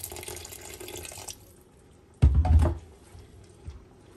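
Water is poured into a pot of cauliflower qorma during home cooking in Kabul, a short, loud splashing gush heard after a stretch of quieter kitchen noise.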